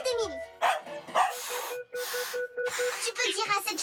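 A small dog yips and whimpers close by in a home while people talk over and between its sounds.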